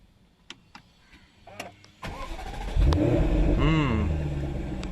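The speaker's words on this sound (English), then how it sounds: "So to start the car, you need to push the brakes and hit the button on the center console." A 2015 Jaguar F-Type V8 starts up after a few soft cabin clicks and a faint whir, catching with a loud, close burst that swells into a blipped rev and then holds a strong rumble.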